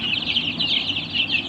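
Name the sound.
native chicken chicks, 10 to 12 days old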